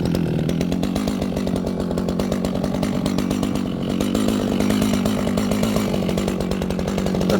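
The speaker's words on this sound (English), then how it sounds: "It cuts the tree like a butter. So you don't even need to push the chainsaw down." A chainsaw cuts through a tree trunk with a loud, steady, unbroken engine whine and chain rasp held close throughout.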